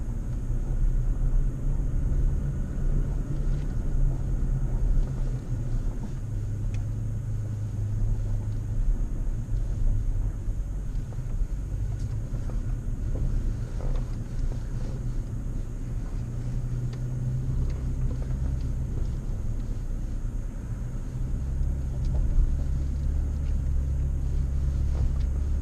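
2016 TRD Off-Road Toyota Tacoma in 4 low with the locker engaged, crawling up a rock shelf, its engine a steady low idling rumble that continues throughout with small surges.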